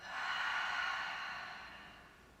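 A single soft, breathy exhale during a yoga flow, rising quickly and then fading over about two seconds.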